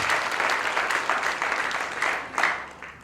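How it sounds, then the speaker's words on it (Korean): An audience at a Korean church gathering, a book launch and March 1st patriotic prayer meeting, breaks into sustained applause, a dense continuous wash of clapping that swells near the end before tapering off. "박수로 한번 영광 돌릴까요?"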